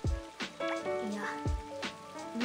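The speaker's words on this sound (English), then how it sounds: "Do you get lost in thought because of the sound of the rain?" Rain falls steadily in the video game Blue Reflection Sun, a soft broadband patter running beneath tonal game music with a few sharp low thumps.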